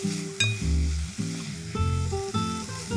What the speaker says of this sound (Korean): 입혀서 한번 재료를 이렇게 기름에 볶아서